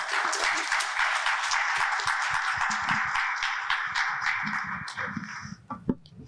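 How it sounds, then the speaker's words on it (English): Conference audience applauding panelists after a panel discussion in Dubai, dense steady clapping from a room full of people that thins into scattered claps and trails off near the end. "And let's give our panelists another round of applause."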